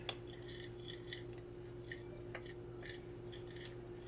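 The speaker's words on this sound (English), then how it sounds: "And then we're going to stir that together." A spoon scrapes and taps against a bowl while stirring a beef gelatin mixture for chocolate chip cookies, with soft, quiet clinks in a few irregular bursts over low background hum.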